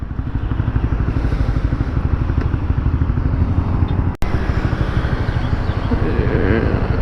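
Customised Honda CB125R with a new exhaust, engine pulsing steadily and loud nearby, with a brief sharp dropout partway through.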